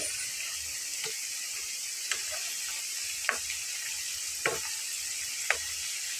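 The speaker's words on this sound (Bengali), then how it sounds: "ঠিক একই রকম করে এগুলোকেও ভেজে নেব" Potato laccha pakoda frying in hot oil, a steady close sizzle with a few sharp ticks and pops spaced through it, no voices.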